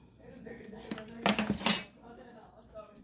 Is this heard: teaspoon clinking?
yes